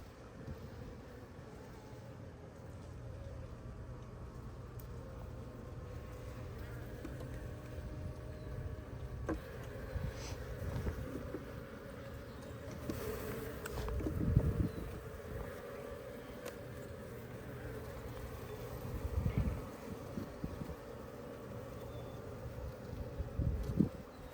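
Honeybees hum at an open hive during an inspection, a continuous low droning buzz with occasional closer passes and faint handling bumps, no talk.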